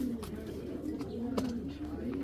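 Bagha pigeons coo in soft, repeated low calls, fairly faint and close, with light background rustle.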